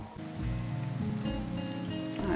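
Rain falls steadily in the Rimworld video game, a soft continuous hiss laid over a low sustained musical drone, faint and with no talking.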